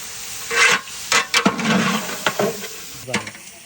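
Stirring and frying iftar food in a pan: irregular scraping strokes and rustling bursts come in short clusters over a faint background sizzle, moderately close.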